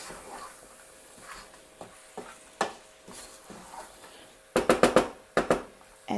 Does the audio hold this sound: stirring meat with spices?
yes